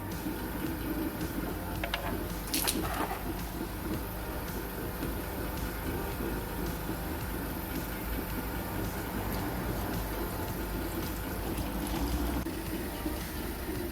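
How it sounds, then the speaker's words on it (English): Engine oil draining from the sump of a 2012 Ford Ka, a continuous dense trickling wash that stays steady throughout, with a couple of brief clinks early on and no talking. "we're going to drain the oil"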